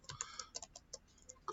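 Several quick, light keystrokes on a computer keyboard in an uneven rhythm, close and fairly quiet, typing a short phrase into a text box of GIS mapping software.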